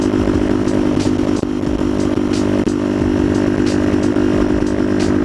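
A Suzuki DRZ400SM motorcycle engine drones loudly and steadily while riding on the highway, a close continuous buzzing roar with slight rising and falling throttle pulses.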